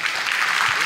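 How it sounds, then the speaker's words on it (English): Brief burst of audience applause at a talk as a presenter takes the stage, dense steady clapping, fairly loud, with a faint voice underneath. "A big round of applause for Nils as he starts."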